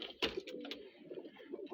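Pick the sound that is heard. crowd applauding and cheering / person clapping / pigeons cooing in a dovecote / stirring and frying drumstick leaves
pigeons cooing in a dovecote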